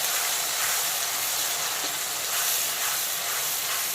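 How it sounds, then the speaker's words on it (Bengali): Onion paste frying in a pan for a rohu fish curry with sola kochu, a steady dense sizzle that holds evenly loud and close throughout with no talking. "এখন প্রথমে পেঁয়াজ বাটাটাকে হালকা বাদামি কালার করে ভেজে নেব।"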